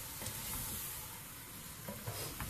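Tinned chopped tomatoes being whisked into sizzling minced meat for keema matar give a dense, steady sizzle with soft rhythmic stirring scrapes, quiet and close, with no voices.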